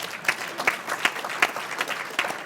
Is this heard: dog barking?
no